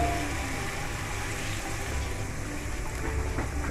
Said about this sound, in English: So we're now going to throw on the water.